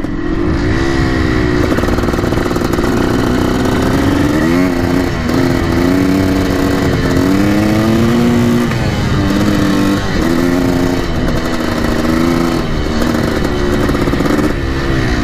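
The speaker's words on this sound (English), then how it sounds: "I'm still getting used to riding this big of a bike." A Yamaha YZ 490 dirt bike engine is revved while riding, a loud, raw two-stroke drone that rises and falls in repeated throttle swells throughout, close and continuous.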